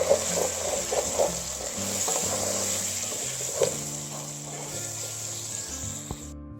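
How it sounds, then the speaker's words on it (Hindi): Dal frying in a pan with turmeric, salt and red chili powder being stirred in, a steady close sizzle with occasional spoon scrapes and clinks throughout. "अब इसे इन तमाम मसाले को अच्छी तरह मिक्स करते हैं"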